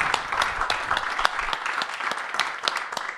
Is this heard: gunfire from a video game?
no